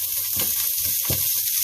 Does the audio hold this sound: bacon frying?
yes